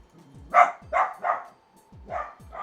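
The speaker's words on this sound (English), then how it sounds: "there's Shania coming and barking me, yeah." Small dog yipping in a series of five sharp barks spaced irregularly over a few seconds, moderately close, with a faint low thumping underneath.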